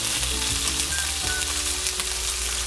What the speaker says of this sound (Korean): 그 대신에 이 팬에서 좀 바싹 구울 거예요.